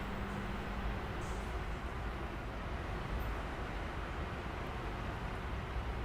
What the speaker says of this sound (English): There's a train just there.